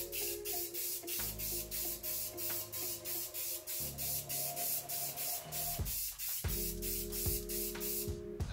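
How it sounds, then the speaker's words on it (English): Spray can misting glitter adhesive onto a cup during a craft, a close hissing spray in repeated short bursts and longer sustained blasts, with light handling sounds between them. "Oh, I feel it spraying on my hand."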